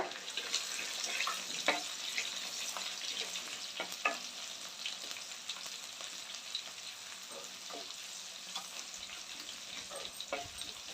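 Steady sizzling of chopped garlic frying in hot oil with fennel seeds, with occasional clinks of a utensil against the pan.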